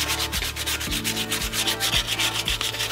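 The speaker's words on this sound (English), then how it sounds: "You can use a wire brush or your sandpaper to roughen up the surface" Sandpaper rubs back and forth over the Protecto 401 lining of a ductile iron pipe, giving rhythmic rasping strokes roughly every half second, close and clear with no talking.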